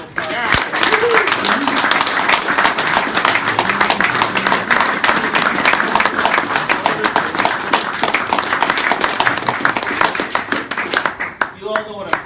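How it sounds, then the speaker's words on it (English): An audience at a hockey coach tribute gives loud, sustained applause lasting over ten seconds, with dense, close clapping, scattered cheers and voices underneath, then tapering off at the end. "Can you give me a round of applause?"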